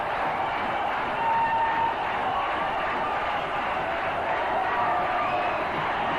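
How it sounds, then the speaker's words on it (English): A dense stadium crowd roars and cheers at a one-day cricket match between India and Pakistan in Sharjah, a broad sustained wash of noise with no breaks, heard from a distance. "And the crowd being entertained by this super hitting."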